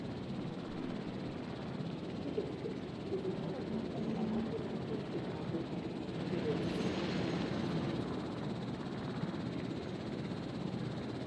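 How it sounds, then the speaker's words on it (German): Helicopters in the dinosaur park game Jurassic World Evolution drone on steadily, a dense, constant rotor and engine rumble that fills the whole stretch at moderate level without pause. "Ist das laut immer? Mit den scheiß Helikoptern."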